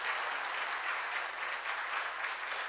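A church congregation at a revival service claps together in steady, dense applause, loud and sustained throughout with no voices on top.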